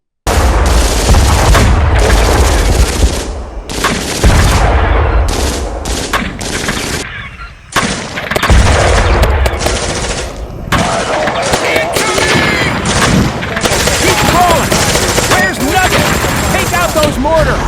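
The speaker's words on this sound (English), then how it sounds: "Those mortars!" Heavy mortar blasts and rapid machine-gun fire in an animated war battle scene, loud and near, with dense bursts and booms and brief lulls, while voices shout over the combat.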